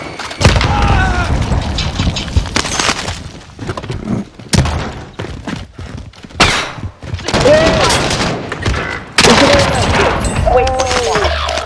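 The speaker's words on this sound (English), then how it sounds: "Throw your grenade!" A grenade blast and gunfire in a shooter video game: heavy booms and bursts of rapid shots come in loud, irregular waves, mixed with crackling impacts and some voices.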